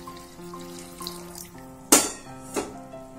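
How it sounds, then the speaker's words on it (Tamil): Hot boiled water poured over washed potatoes, a short splashing pour with a couple of sharp splashes over a quiet background, no talking. "இப்ப பாயில்ட் வாட்டர் போடுறோம்."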